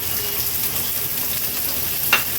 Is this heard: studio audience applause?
no